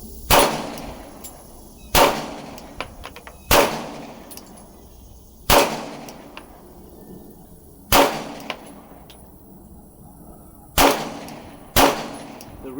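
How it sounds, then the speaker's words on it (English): Sharp, loud shots from a Glock 19X pistol fired one-handed, about seven reports at roughly one-to-two-second intervals, each a crisp crack with a short ringing decay and quiet gaps between. "I'm gonna do some one-handed shots"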